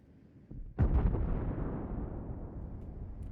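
Shells explode against the battleship Kremlin in World of Warships, a sudden heavy boom after a short quiet lead-in, followed by a long rumbling decay that fades slowly.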